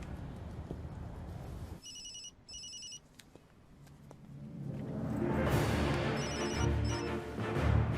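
A newly installed landline telephone rings in short electronic trilling bursts, two pairs spaced a few seconds apart, over background noise and a low rumble that builds.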